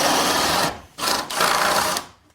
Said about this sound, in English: that's the sound of a drill going through the nail.